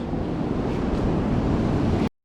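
Surf on the Oregon coast during a surf perch fishing outing roars as a steady, loud wash of breaking waves mixed with heavy wind rumble on the microphone, then cuts off abruptly.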